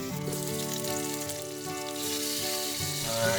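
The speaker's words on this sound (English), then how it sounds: "now we simply just wait for our bacon and egg to be done" Bacon and egg frying together in a pan give a steady, close sizzle that runs throughout, mixed with a sustained tonal drone in the background.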